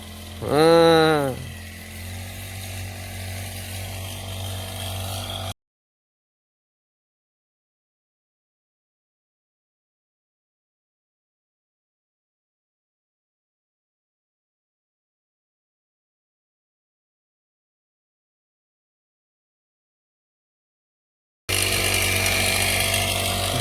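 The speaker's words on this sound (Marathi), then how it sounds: "पंप चालू आहे आपला फॉरेस्ट ट्रॉक मध्ये" An engine-driven water pump on a forest farm revs with a rising, sweeping whine and settles into a loud, steady drone. Near-total silence follows for a long stretch, then the rough, noisy engine running comes back.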